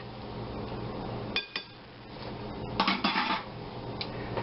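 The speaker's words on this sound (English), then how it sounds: "first we're going to stir this up just a little bit more" Mixture stirred in a bowl for chocolate strawberry shortcakes, a few scraping and clinking strokes of a utensil against the bowl over a low steady background hum.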